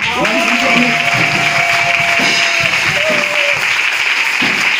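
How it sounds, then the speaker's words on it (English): An audience at a church gathering claps with continuous applause at close range, blended with a sustained tone and scattered voices. "Mandiwa applaudissement."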